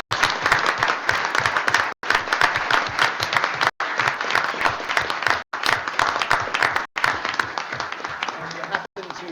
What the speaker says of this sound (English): How about a round of applause for those?